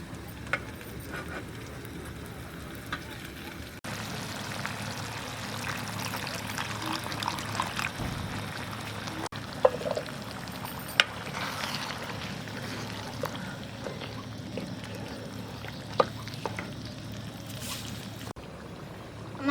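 Water poured into masala chicken in a pan on the stove, making a faint, steady hiss and sizzle for the whole stretch with a few small clicks and taps.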